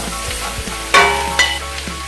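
Onions and mushrooms sizzle in a pan for an eggplant lasagna, with a steady frying hiss broken by two sharp scraping stirs, close and fairly loud, and no voices.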